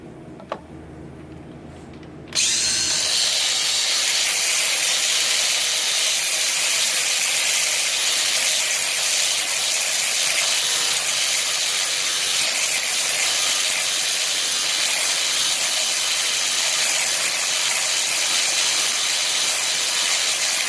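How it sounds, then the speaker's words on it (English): A power cutting tool slices through the crank of a bicycle being turned into a drift trike: a short quiet lead-in, then a loud, steady, hissing grind that runs nonstop close to the mic. "we're going to cut the crank off"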